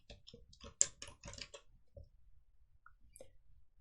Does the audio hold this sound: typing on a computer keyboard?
yes